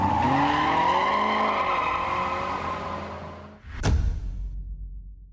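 A race car engine drones at steady high revs with rising and falling tones, then fades before a sharp bang and a louder rumbling surge near the end.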